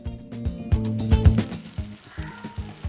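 Onions, cardamom and cloves fry in hot ghee with a steady crackling sizzle. Repeated stirring knocks and scrapes punctuate it close up, and there is no talk.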